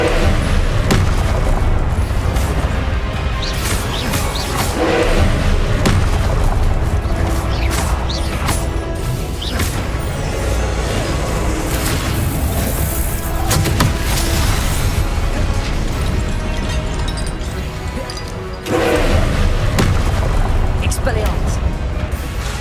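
Heavy booming Confringo spell explosions in Hogwarts Legacy, loud impacts and crashes landing one after another amid a thick, sustained combat roar, with voices calling out over the mix.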